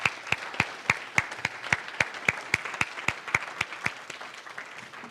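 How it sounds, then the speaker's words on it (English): An audience at a strategic vision presentation gives a round of applause, sharp regular claps spread across the whole stretch, moderately loud, with no talking. "gratitude and round of applause"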